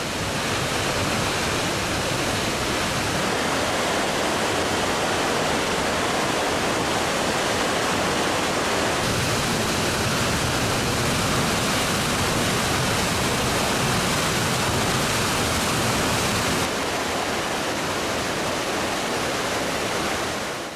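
Cascada de la Virgen, a waterfall on a hiking trail in southern Chile, roars as a loud, steady broadband rush of falling water, dense and unbroken, with no voices.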